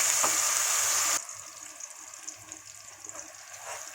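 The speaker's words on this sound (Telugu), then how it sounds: "ఆయిల్ వేడైపోయింది. ఇప్పుడు ఈ మిశ్రమాన్ని వేసుకోవాలి." A ground paste of onion, garlic, ginger, cardamom, cinnamon and cloves hits hot oil for a chicken curry, giving a loud bright hiss that cuts off abruptly into a much quieter, low bubbling sizzle.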